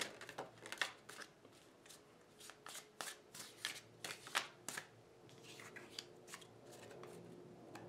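Tarot cards being shuffled in quick riffling bursts, close and crisp, with brief pauses between shuffles.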